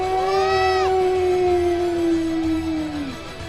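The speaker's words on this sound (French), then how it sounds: "C'est le bruit d'un loup." A lone wolf howl during a French story-driven game, one long sustained wavering tone sliding slowly downward, loud and near, with a faint low background under it and no talking.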